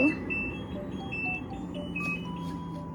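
An air conditioner gives a series of short, high electronic beeps as it is switched off, sounding close and fairly faint over a low background hum.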